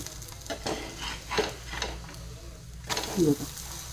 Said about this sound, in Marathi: आता आपण हे दुसऱ्या साईडने भाजून घेऊ